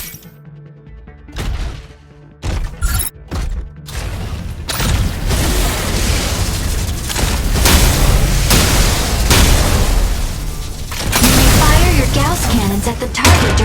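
A Striker mech rushing at a target dummy in a boost attack in the Mecha Break video game, with a loud, sustained roaring thrust and crashing impacts after a few choppy mechanical clicks and bursts.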